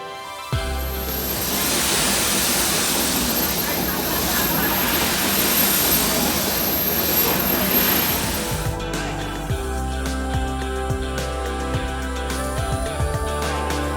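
The twin coal-fired triple expansion jet condensing steam engines, 500 horsepower, of the century-old TSS Earnslaw steamship: a loud, dense roar giving way to a steady, rhythmic mechanical thumping and clanking, close by.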